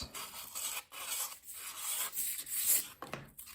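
Sandpaper rasps back and forth over a balsa wing of a rubber-powered model plane, close and fairly quiet, in uneven strokes with brief pauses between passes.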